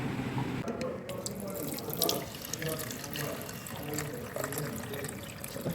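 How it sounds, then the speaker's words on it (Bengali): A tap runs steadily into a sink, filling water to soak muddy leaves. The flow sounds close and continuous, with splashes and drips throughout. "এগুলোকে জল দিয়ে ভিজিয়ে রাখি যেটুকু মাটি কাদা লেগে আছে নিচে চলে যাবে"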